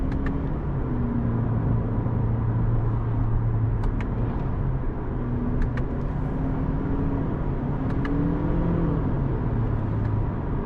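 Heard from inside the cabin, a 2025 Toyota Camry SE with its 232 hp engine in sport mode drives with a steady droning hum. The engine tone rises and falls gently, and a few faint clicks sound over a constant road rumble.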